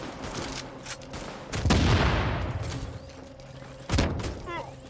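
A weapon in The Division video game fires in rapid three-round bursts amid loud combat gunfire and a booming blast, with voices talking over the action.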